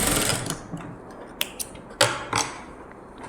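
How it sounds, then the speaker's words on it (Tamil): Sewing machine double-stitching a blouse sleeve, with short mechanical clatters and ratcheting bursts starting and stopping over a soft hiss, close by and fairly loud. "டபுள் ஸ்டிச் போட்டுக்கிற கையை இன்னொரு கையும் நான் தைச்சி காமிக்கிறேன்"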